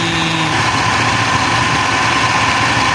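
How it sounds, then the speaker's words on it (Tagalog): An air-conditioner compressor that fails to cycle off runs without a break, giving a steady, even mechanical hum with a low engine-like drone that never changes for the whole stretch. "Yung compressor na yan, walang tigil yung andar."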